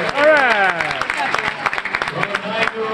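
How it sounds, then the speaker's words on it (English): Applause from an audience at a 1994 kids' triathlon award ceremony in Phoenix, a dense run of claps with a cheering crowd and voices mixed through it for the full stretch. "A big rainbow round of applause."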